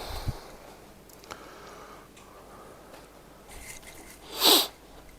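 One sharp, close sniff taken over freshly brewed beer wort from a fresh wort kit, rising quickly and stopping after a quiet stretch of faint handling noises.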